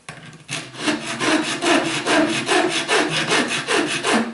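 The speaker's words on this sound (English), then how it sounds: "That's, as you can hear, a coarse file." A coarse metal file scrubs back and forth on a wooden jeweller's bench peg, making a close, rasping, rhythmic series of about a dozen strokes at a steady pace.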